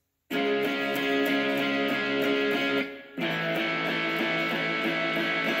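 Distorted electric guitar power chords from the chorus of a song ring out loud and sustained, with a brief drop near the middle before the chords resume, no voices.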